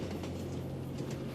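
A train rolls along the rails with a steady low rumble and a faint sustained hum. Light rhythmic rattles sit on top, and the sound stays even and close throughout.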